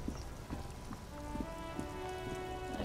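Steady rain falling in the Disco Elysium video game, a dense, even patter with scattered drop taps over a constant low wash, loud and continuous throughout, with faint tonal hum behind it.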